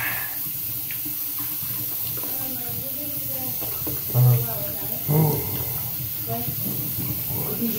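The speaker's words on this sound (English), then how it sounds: "Now I'm washing my hands." Water runs steadily from a tap into a sink while hands are washed, a constant close hiss throughout with a few splashes, as someone talks over it.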